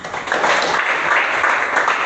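A congregation applauding during a church discipleship training session, a brief dense burst of clapping from many hands, fairly close and steady.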